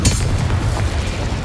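Deep booming blast from the Confringo explosion spell in Hogwarts Legacy, a loud, dense rumble with a sharp onset and crackling debris that stays heavy across the short burst.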